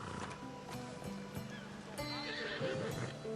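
A horse in Assassin's Creed Odyssey whinnies clearly near the start and again later, with clip-clopping hooves, lapping water and soft game ambience.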